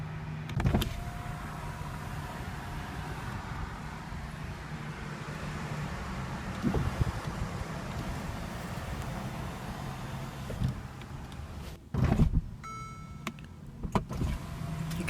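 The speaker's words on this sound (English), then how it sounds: "you can transform your SL from closed coupe to open roadster in about 16 seconds" A 2014 Mercedes-Benz SL550 roadster's retractable hardtop moving open, a steady low electric motor hum and mechanical whir running close and continuous, with a few clunks and latch clicks partway through and near the end.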